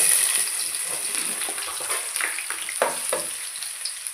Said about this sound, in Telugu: ఉల్లిగడ్డ, ఆలుగడ్డ ఇవన్నీ ఒక్కొక్కటి వేసుకొని ఫ్రై చేసుకోవాలి